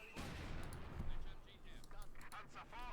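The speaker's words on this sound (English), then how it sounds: "Machine gun sectioning up there for NotJibber as well." Dense machine gun fire and battle noise from Company of Heroes 2, a World War II strategy game, rattles steadily through a busy match while a commentator talks over it.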